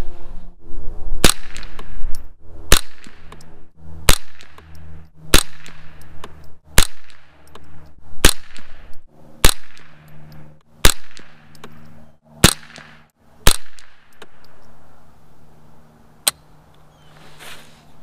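A Savage A22 .22 rifle firing SK Long Range Match rounds, about a dozen sharp, loud cracks spaced a second or so apart, with faint handling noise between shots.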